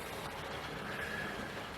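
A model railway train of GWR Castle-class type runs along its track, a faint, steady rumble with light rolling clicks and a brief thin squeal partway through.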